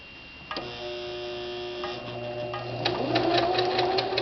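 A sewing machine stitches a facing, its motor whirring up into a steady run of rapid needle ticks that grows louder and faster toward the end, recorded up close with no talking.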